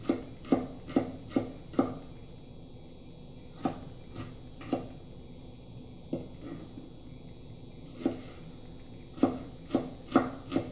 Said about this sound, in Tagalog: Tapos magagayat po tayo mga kaloko ng sibuyas.